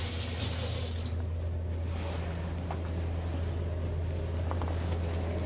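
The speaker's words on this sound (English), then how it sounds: "I'm gonna just rinse my hands." Water from a running kitchen tap splashes steadily as hands are rinsed beneath it, a continuous close rush with a brighter burst at the start, no talking.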